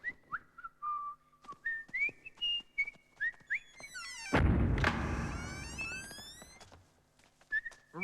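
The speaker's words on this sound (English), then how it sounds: "Mumfie started to whistle a particularly cheery one" A cartoon character whistles a bright, bouncy tune in short phrases. A loud burst of noise briefly interrupts it, then the whistling returns.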